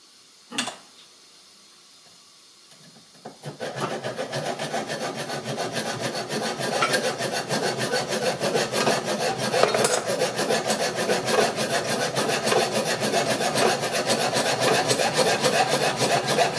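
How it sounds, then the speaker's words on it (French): After a quiet start and a brief knock, a hacksaw rasps through metal in steady back-and-forth strokes during a repair, close and continuous. "Un petit coup de scie à métaux là-dedans."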